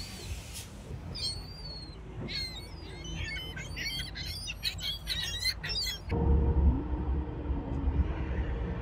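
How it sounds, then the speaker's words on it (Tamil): Birds chirp and tweet in quick, overlapping bursts, with a harsher squawk mixed in, over a low rumbling background that grows louder toward the end. "இங்கே வந்து இந்த பறவைகளுக்கு சாப்பாடு கொடுக்கணும்."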